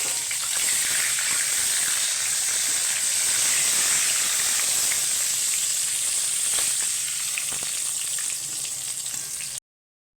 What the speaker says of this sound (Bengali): ওই তেলের মধ্যে আমি একটা শুকনো লঙ্কা, 2টো গোটা গরম মশলা, আর একটা দারচিনি, আর একটা তেজপাতা ফোড়ন দিয়ে দিলাম।